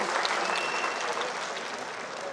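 Audience at a film studio workers' union event applauding to welcome a guest on stage, a sustained dense round of clapping from many hands at moderate distance.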